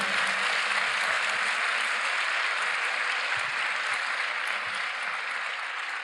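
A large audience at a 2019 pro-life festival event in Puebla, Mexico, applauds loudly and continuously, a dense wash of clapping that holds steady and eases off only slightly toward the end.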